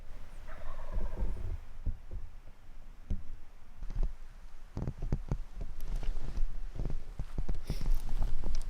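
A wild turkey gobbler gobbles in a rattling burst early on, fairly distant, followed by footsteps and clicks crunching through leaves in the woods.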